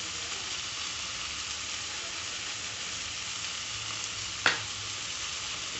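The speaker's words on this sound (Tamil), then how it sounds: "அதை வந்து சின்ன சின்னதாக சாப் பண்ணி அதையும் ஆட் பண்ணிக்கோங்க. நல்லா வதக்கிக்கோங்க." Finely chopped tomato sautéing in a pan for bread masala, a steady close sizzle and hiss throughout with one brief scrape or stir near the end.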